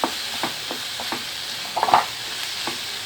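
Onions sautéing in a pan for aloo paratha stuffing give a soft, steady sizzle with a few spatula stirs and scrapes, one brief louder clatter near the middle, no voices.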